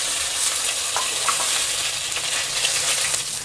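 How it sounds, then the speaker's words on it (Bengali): Fish heads fry in a pan of oil, a dense continuous hiss and crackle at close range that holds evenly throughout with no one talking. "তো মাছের মুড়োগুলো আমার ভাজা হয়ে গেছে।"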